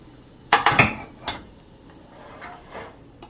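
Pot handled in a kitchen while preparing holiday turkey innards, a quick cluster of bright metallic clanks followed by a couple of softer knocks, close and otherwise quiet.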